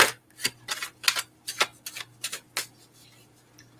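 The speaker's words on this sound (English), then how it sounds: "Shuffle a little bit." Quick crisp riffling bursts of cards being shuffled, about a dozen irregular flicks close up, with quiet gaps between them.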